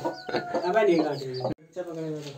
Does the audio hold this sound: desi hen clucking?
yes